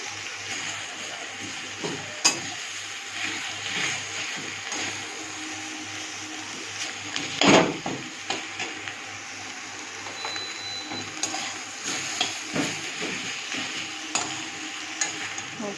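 Rice frying in a pan while being stirred, a steady close sizzle broken by repeated scraping and clicking strokes of a utensil against the pan, one stronger clatter midway, with no voices.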